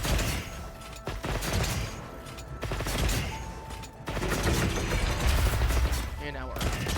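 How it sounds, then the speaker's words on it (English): Rapid gunfire from a magazine dump in the video game Monster Hunter Wilds, a dense run of shots lasting several seconds over game effects and music, with a voice talking throughout. "Now we go ahead and mag dump this guy."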